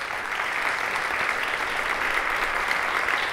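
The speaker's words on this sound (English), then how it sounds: "I want to give a round of applause for everybody who's been a part of this tonight." Sustained audience applause fills a youth conference hall, a dense, even wash of clapping that holds steady and loud throughout with no talk over it.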